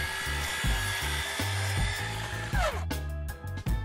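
A power saw cuts 1x6 composite decking boards for self-watering raised planter beds, giving a steady loud whine with repeated surges as each cut is made, then a falling pitch as the blade spins down near the end.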